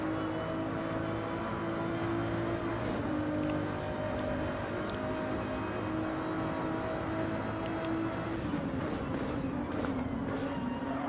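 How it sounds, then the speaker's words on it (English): Ferrari engines in a racing game, a steady droning whine and hum of motors with shifting pitch, moderately loud and sustained, with a brief rising shriek partway through. "Don't you just love the sound of these Ferraris?"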